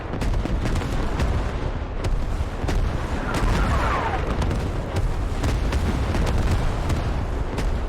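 A creeping artillery barrage in the game Squad rumbles on without pause, a dense wall of booms and blasts rolling close and loud, with sharper impacts punching through now and then.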